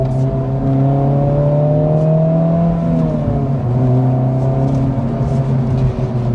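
A Honda Civic Type R engine revs hard under acceleration, a loud steady whine that climbs in pitch and then drops with a gear change before climbing again.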